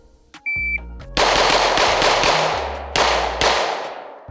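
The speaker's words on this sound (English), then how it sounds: "Shoot at this first target as fast as possible, 6 shots, and then 2 shots on the further target." Full-size pistols, a Glock 45 or SIG P320, fire in a timed shooting drill: a beep, then a rapid string of about six sharp loud shots, a pause, and two more cracks.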